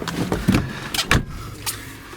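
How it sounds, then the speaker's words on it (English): A 1994 Mercedes-Benz E 320 sedan door swinging and shutting with a solid, heavy thud, close by, followed by a few smaller clicks and knocks, with no talking. "Door closes like a bank vault."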